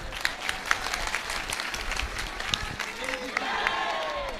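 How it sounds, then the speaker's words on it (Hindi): Devotees clap for a few seconds at a religious discourse (katha) in India, an uneven crowd patter with scattered sharper claps and murmuring voices mixed in, fading toward the end. "चलो अब ताली बजाओ।"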